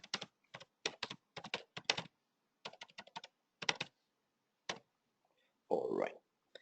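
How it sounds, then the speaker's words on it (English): Quick bursts of typing on a computer keyboard, close and clear, with crisp key clicks coming in short clustered runs separated by pauses, followed by one louder, broader clatter near the end. "Let me just type that very quickly."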